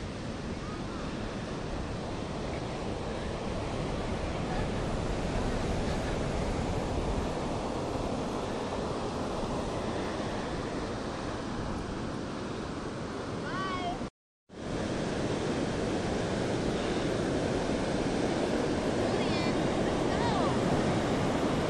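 Ocean waves at Ocean Beach, California roll in a continuous broad wash of surf, steady and fairly loud, with some wind buffeting the microphone and a brief dropout midway.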